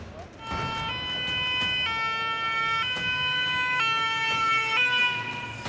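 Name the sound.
fire engines arriving with sirens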